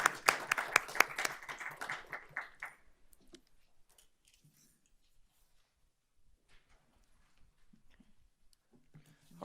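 A board meeting audience gives a round of applause for the Teacher Leadership Council: dense clapping for about three seconds, then it stops abruptly, leaving near-silence with faint scattered room noises.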